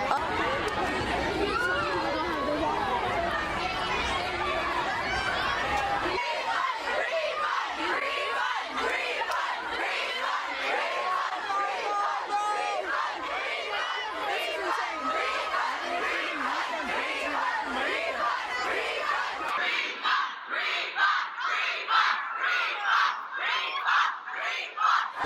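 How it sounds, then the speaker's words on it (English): A large crowd at a canceled convention swarms and screams, a dense continuous roar of shrieks and yelling that stays loud throughout, with nearby chatter mixed in. "When they said it was canceled, everyone ran up and attacked, and they're freaking screaming."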